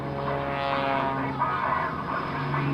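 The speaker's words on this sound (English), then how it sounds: "of course he's going to slow the airplane down" Propeller airplane flying in the Jimmy and Kyle Franklin aerobatic wing-walking act at the 2004 AirPower Over Hampton Roads airshow, slowing down. Its engine gives a steady, fairly loud droning hum with a faint voice underneath.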